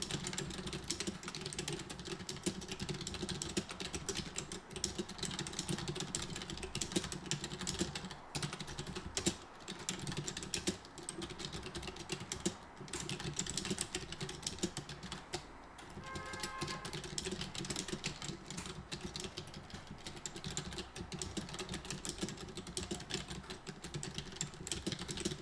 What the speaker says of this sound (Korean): 이렇게 타이핑을 다 해주시면 돼요.